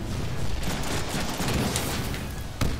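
Gunfire in the Deadpool video game crackles in a dense, continuous burst of rapid shots, loud and noisy throughout with a sharper crack near the end.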